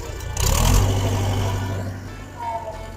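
An old tractor engine with a backhoe attachment runs steadily with a low rumble, rising briefly as the throttle is opened, then settling back to a steady idle.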